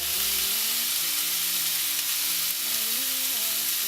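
Chicken fries in a pan with a steady, bright sizzle, close and constant, with no talking.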